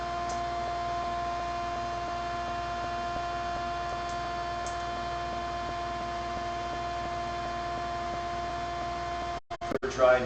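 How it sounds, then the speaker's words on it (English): A vacuum runs during home coffee roasting, a steady droning hum with a constant tone that holds loud and unchanging, then cuts out with a few abrupt dropouts near the end. No one speaks. "when I don't have all this vacuum noise going"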